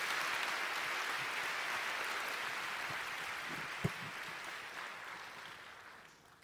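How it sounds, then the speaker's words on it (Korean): A congregation applauds at a Christian prayer meeting in a church hall, a broad, even patter of many hands clapping at moderate distance, sustained and then fading out at the end. "잠시 박수 해주시겠어요?"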